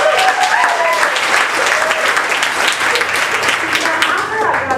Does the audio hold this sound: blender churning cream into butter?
no